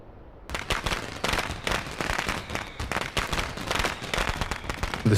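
Midnight New Year's Eve fireworks in the video game Love and Deepspace, a rapid series of sharp crackling bursts and pops, loud and dense, firing in quick irregular succession after a brief quiet start.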